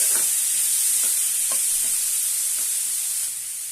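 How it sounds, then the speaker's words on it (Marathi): Cut brinjal sautés in a pan for chutney with a steady, close sizzle, broken by a few soft stirring scrapes at regular intervals. "आणि छानपैकी परतून घेऊया।"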